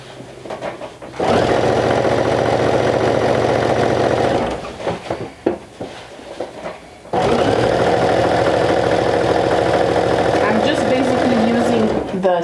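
A serger runs a seam on a knitted vintage-style jumper, a steady mechanical whir lasting a few seconds, pausing with brief handling clicks, then running again at the same fast, even pace.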